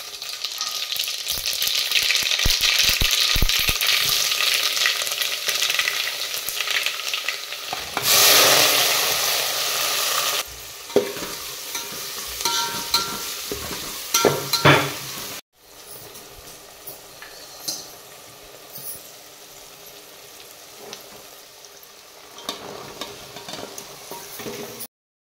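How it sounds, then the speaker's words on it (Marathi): Spices crackle and sizzle as they are tempered in hot oil for a rustic Bhogi mixed-vegetable curry, with steady loud frying, spoon stirring and scraping against the pan, then a quieter stretch of softer sizzling near the end. "तेल गरम झाले, फोडणी"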